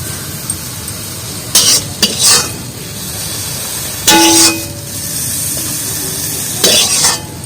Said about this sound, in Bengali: এই একটা প্লেটে আমি তুলে নিচ্ছি শাক ভাজাটা